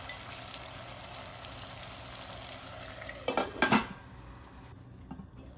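A lid clatters on a covered pan of tomatoes and spices cooking over low heat, a short metallic rattle of pot and cover after a faint steady background hiss.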